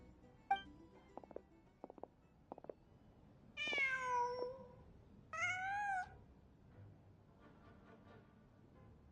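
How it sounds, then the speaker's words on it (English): A cat in the video game Genshin Impact gives two clear, fairly close meows a second apart, after a few faint clicks and taps over a quiet background. "Just a cat."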